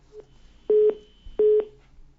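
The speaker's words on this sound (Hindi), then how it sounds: "फोन लाइन डिस्कनेक्ट हो गई है उनकी" Repeated telephone line tone from a dropped call on a phone-in news program: two steady, evenly spaced beeps with a faint hum between.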